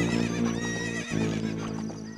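A horse whinnies in The Legend of Zelda: Ocarina of Time, one loud, close, drawn-out neigh with a hoof clop partway through, with game music playing underneath.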